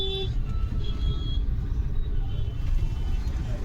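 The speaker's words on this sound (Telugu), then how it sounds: "ఫుల్ అంటే ఫుల్ ట్రాఫిక్" Dense road traffic with auto rickshaws hums at a moderate distance, engines droning steadily while short horn toots break through now and then.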